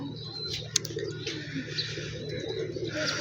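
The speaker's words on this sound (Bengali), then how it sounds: "এদিকে কিছু কবুতর এর উপরে আর অনেক কবুতর" Many pigeons coo softly in a steady low murmur amid dense background noise, with a brief sharp click partway through.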